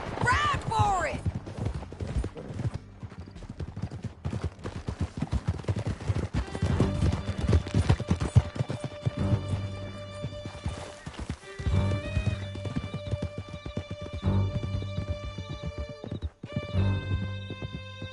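Horses clip-clopping at a gallop in the Red Dead Redemption 2 game world, a steady hoof rhythm mixed with neighs and whinnies, with sporadic gunfire, a fusillade and tense music layered throughout.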